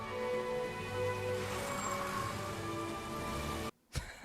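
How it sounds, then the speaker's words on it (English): Steady heavy rain falls through a scene in the film Se7en, a dense continuous wash under a low rumble that cuts off abruptly near the end. "Just never stops raining. Never."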